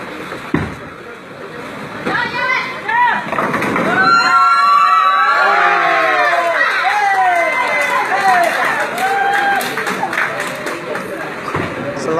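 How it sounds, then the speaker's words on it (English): A crowd at a tenpin bowling championship doubles medal round cheers, whoops and claps, building into a loud, sustained roar with a commentator speaking over it. "There's a lot of excitement in the crowd."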